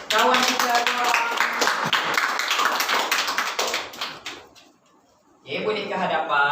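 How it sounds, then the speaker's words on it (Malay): Schoolchildren in a Year 4 Islamic studies class clap for two classmates, giving a dense, close burst of applause mixed with voices, which fades briefly before another round of clapping and chatter picks up. "tepukan untuk kawan kita dua orang"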